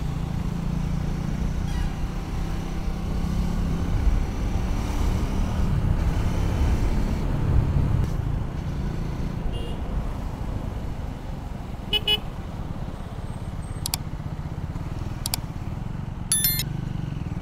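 A Triumph Speed 400 motorcycle rides through city traffic, its engine rumble blending with surrounding car and truck noise, while several short horn toots sound near the end.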